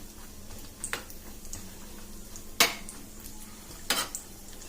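Cashews, almonds and raisins being fried in a pan for jaggery milk rice, heard as a few sharp metal clinks and scrapes of a spoon against the pan over a quiet background.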